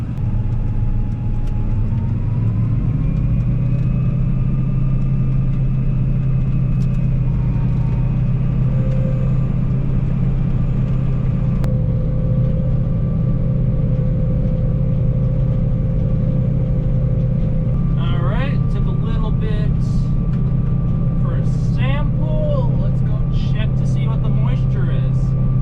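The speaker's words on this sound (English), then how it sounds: "driving over to the field gives the combine enough time to warm up to where I can start it right away" Combine harvester engine running while driving over to a flax field, a loud, steady low rumble with a constant drone heard from inside the cab, with brief higher-pitched squeaks near the end.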